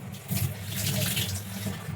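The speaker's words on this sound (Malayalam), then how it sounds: "നാരങ്ങ കട്ട് ചെയ്ത കട്ടി നമുക്ക് കഴുകി വെക്കാം" Water runs from a tap with splashing as a cutting board is rinsed underneath, a steady close gush with slight shifts in flow.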